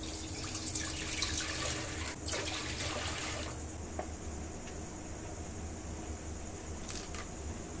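Water is poured into a basin while banana flowers are being prepared for a Bengali mochar ghonto, a continuous splashing flow that shifts in tone partway through, with a faint high insect-like hiss in the background.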